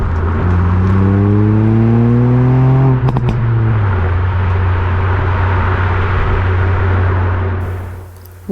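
A 2021 Ford Fiesta ST engine climbs through a loud, rising rev, then drops sharply with a brief crackle before settling into a steady close-up drone that fades at the end.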